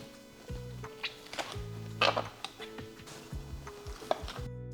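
A knife cutting the wings off a roast chicken, giving a run of short, close knocks and thuds on a board at an irregular rhythm, with a few sharper clicks and no talk.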